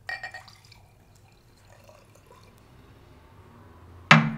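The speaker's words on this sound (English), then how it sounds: "I'm gonna pour out some vodka." Vodka poured out of a bottle, heard as a brief trickle and a few drips at the start, then near quiet, ending with a sudden louder splash or clink.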